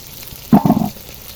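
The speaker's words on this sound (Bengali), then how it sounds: "আমি এরা পেটিগুলো সব উল্টিয়ে দিচ্ছি তেলে" Crab-shaped pitha turned over in hot oil, a short close burst of bubbling sizzle lasting under half a second against a low quiet background.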